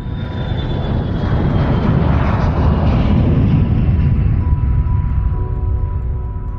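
Airliner engines roar loud and steady through a takeoff run, a dense broadband rumble that swells slightly midway and holds with no voices over it.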